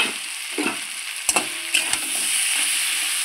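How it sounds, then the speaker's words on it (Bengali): Mixed vegetables with salt and turmeric sizzle and hiss steadily in a hot pan, broken by a few sharp clatters as they are stirred. No voices. "লবণ হলুদ দিয়ে আমার সবজিটা খুব সুন্দর করে ভাজা হয়ে গেছে"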